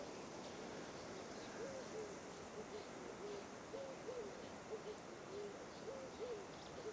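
Hoopoes give soft, hollow hooting calls in short repeated groups at West Coast National Park, South Africa. The calls are faint and fairly distant over a steady hiss of wind or surf.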